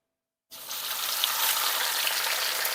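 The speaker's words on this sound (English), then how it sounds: "we're gonna fry our fish now" Unfloured fish dropped into hot oil in a home kitchen: sudden silence breaks into a loud, close, continuous hissing sizzle that holds steady to the end.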